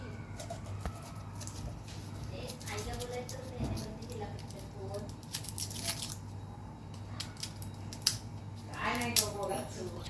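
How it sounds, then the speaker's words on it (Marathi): A knife cuts onions in a home kitchen while making veg Hyderabadi biryani, giving soft irregular chopping taps and crisp slicing sounds. A steady appliance hum runs underneath and people talk faintly at times. "आता आपल्याला हे कांदा कापून घ्यायचे आहेत"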